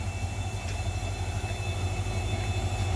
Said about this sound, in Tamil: அற்புதமாக இந்த ட்ரெயின் வந்து நேராக ராமேஸ்வரம் போய்க்கு போயிட்டுருக்கு